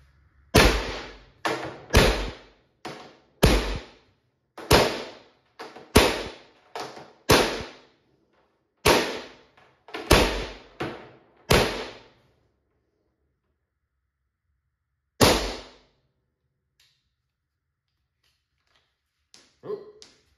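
Valken M17 CQMF less-lethal launcher firing: a quick string of about a dozen sharp, snapping shots, several in close pairs, then a pause, one more shot, and faint handling noise at the end.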